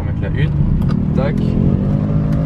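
A manual-gearbox Ferrari revs steadily at close range in Monaco, its engine note holding loud and continuous, with a voice talking over it; no clear gear change stands out.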